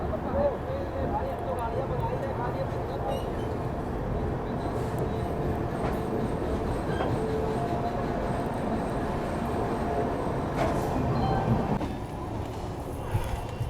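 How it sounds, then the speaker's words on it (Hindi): The Barauni Clone Special Humsafar Express pulls out of Kanpur Central at night, a continuous close rumble of rolling coaches with occasional wheel clacks and squeaks. Someone talks over the noise. "हमारी ट्रेन जो है डिपार्च हो गई कानपुर सेंट्रल से"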